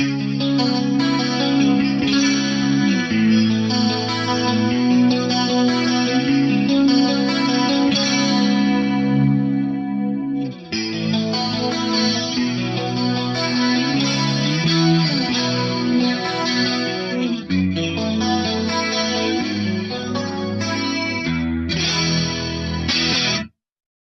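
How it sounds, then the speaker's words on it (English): Sustained electric guitar chords drenched in a shimmering, swirling chorale-style chorus effect from an Eventide Tricerachorus pedal, played continuously and loud with a few brief pauses between phrases. "I love that chorale style effect."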